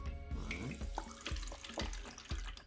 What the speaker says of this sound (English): I want you to pour your ZeroWater over the tea bag